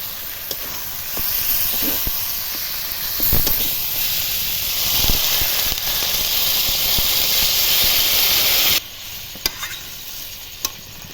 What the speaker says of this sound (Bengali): মাংসটা ভালোভাবে কষানো হয়ে গেছে এবার জল দেবো